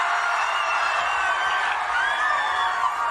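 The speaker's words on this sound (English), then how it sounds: "That sounds like a big crowd of beautiful people" A large crowd roars and cheers steadily, a dense wash of many voices with scattered whoops, heard at a distance without pause.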